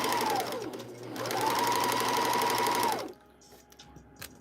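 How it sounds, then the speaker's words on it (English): A sewing machine stitching dusters runs in two loud, steady bursts of rapid mechanical chatter with a brief pause between them, then stops, leaving quiet room sound. "We are sewing orders, sewing up some dusters, shipping them out tomorrow."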